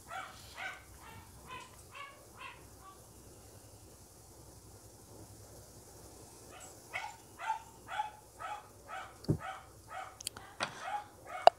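A dog barks repeatedly at a distance in irregular runs, faint and indoors-sounding, with a quiet pause between bursts.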